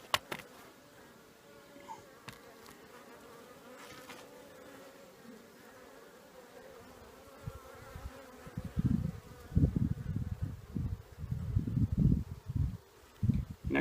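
Honeybees, many of them drones, buzzing around an open hive in a steady close hum, with louder handling noises and rustling near the end.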